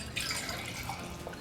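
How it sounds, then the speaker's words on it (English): Instant Pot bone broth poured from a pot into a mug: a soft, continuous trickling pour with faint splashy texture, quiet and close, no voices. "So I'm going to pour it into my mug here."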